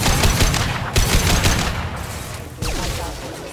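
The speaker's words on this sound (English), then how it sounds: "Firing a high-impact shot!" High-impact gunshots in Mass Effect 2, a few loud, heavy blasts in quick succession, each trailing off into rumbling decay.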